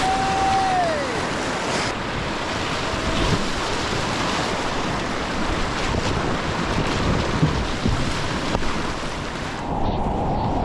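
A Jackson Kayak Clutch paddles through whitewater, with a constant loud roar of rushing rapids and wind buffeting the microphone for the whole stretch.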